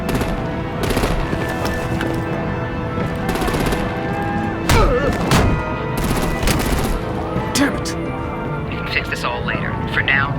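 Gunfire rattles through a Batman: The Enemy Within video game scene, with loud bursts of broadband shots and sharp cracks repeating over roughly ten seconds beneath dense game sound, with speech mixed in.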